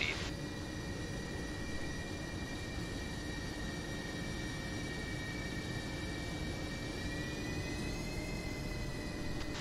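Steady whining jet engine of an aircraft taxiing in the DCS flight simulator, a constant drone with sustained tonal hums that shift slightly near the end, heard alone.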